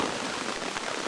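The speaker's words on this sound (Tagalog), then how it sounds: "walang pinipiling panahon ang ulan sa Amazon rainforest" Steady rain in the Amazon rainforest in Brazil during autumn, a dense, even hiss of falling drops filling the whole brief moment, with no voices.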